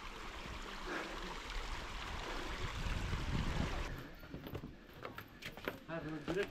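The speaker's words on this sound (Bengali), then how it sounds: "এখান থেকে হালকা হালকা জল পড়ছে ঝর্ণার।" A light trickling waterfall on Nilgiri hill makes a steady wash of rushing water that fades partway through, with a voice and outdoor noises over it.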